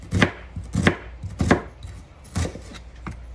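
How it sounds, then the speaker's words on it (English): A kitchen knife chops diced onion on a cutting board, giving five crisp, close thuds at an uneven, quick rhythm with no talking. "And when it gets to the end, just chop it up."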